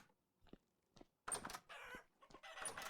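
Chickens in a video game server world cluck and squawk in short bursts, a few faint calls first, then louder, denser clucking alone.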